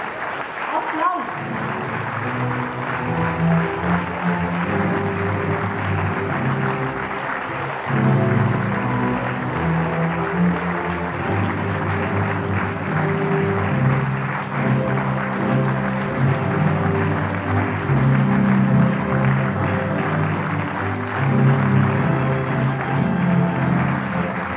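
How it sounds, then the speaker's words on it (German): An audience at a castle play claps for over twenty seconds, a dense sustained patter of many hands heard with voices talking over it at times. "Könntet ihr bitte etwas klatschen, dass die Spieler auf eine kleine Ahnung von einer Vorstellung bekommen? Applaus!"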